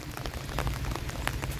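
Steady rain falls hard during a storm, a dense, continuous patter of drops hitting surfaces close by.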